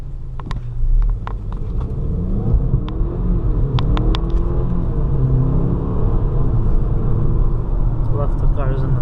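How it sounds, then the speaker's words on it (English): A Mercedes C Class does donuts, its engine giving a steady low rumble with rising and falling revs and tire noise as it circles. Voices talk over it throughout. "we're gonna make a donut with a car"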